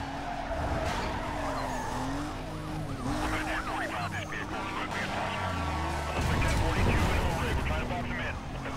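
Car drifting in Need For Speed Most Wanted, with tires squealing and skidding in long wavering screeches over engine roar, a louder burst near the end, while people talk throughout.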